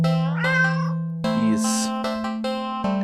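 A black cat in an indie horror video game meows several times, with clear, close, drawn-out tonal meows over a steady low hum of game music.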